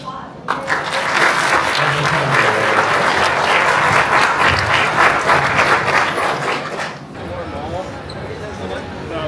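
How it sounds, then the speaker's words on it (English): A crowd of fans applauds steadily and loudly in a large convention hall at a Fan Expo Dallas panel, with cheers and chatter mixed in. The clapping fades toward the end, leaving hubbub and a few voices. "Another round of applause."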